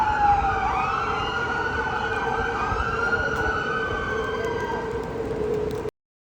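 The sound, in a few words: ambulance siren passing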